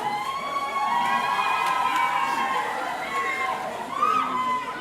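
At a school homecoming soccer game, spectators cheer in a steady, moderately loud crowd roar with high shouts, swelling briefly near the end.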